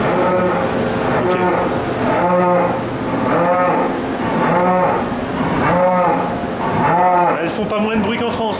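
Several dairy cows moo one after another in long, loud, drawn-out calls on a Quebec dairy farm, with a steady farmyard hum and some voices underneath.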